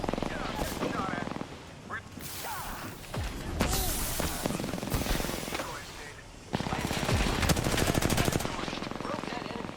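Gunfire in the video game Apex Legends: loud rapid automatic bursts and single shots in several volleys, with a voice talking over parts of the action.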